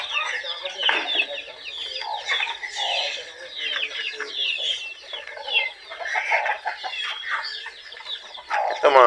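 A hen with a brood of eleven chicks on a farm gives repeated soft clucks, mixed with a busy chorus of high, thin chick peeps, all close by.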